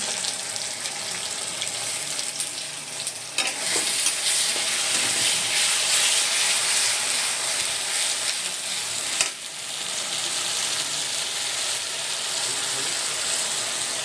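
Ground onion paste sizzles loudly and steadily in a hot pan, a dense continuous frying hiss with a couple of brief stirring scrapes.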